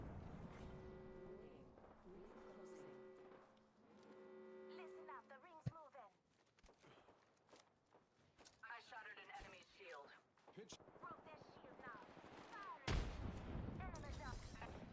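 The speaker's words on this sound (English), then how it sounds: "It's my grenade." Bursts of video game gunfire crack and pop, with a sharp grenade blast standing out among them, while a voice talks over the mix of shots and low hum.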